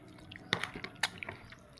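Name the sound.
mixing buko (young coconut) salad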